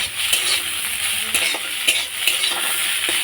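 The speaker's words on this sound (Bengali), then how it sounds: "উচ্ছে আলু ভাজা বসিয়ে দিয়েছি।" Bitter gourd and potato frying in a pan in a Bengali home kitchen, with a steady sizzle and the repeated scrape and clink of a spatula stirring against the metal.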